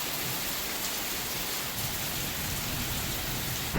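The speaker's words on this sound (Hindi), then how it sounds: "भयंकर वाली बारिश कर दी भाई बाबा" Heavy mountain rain pours down steadily, a dense, loud hiss of drops drumming on surfaces without pause.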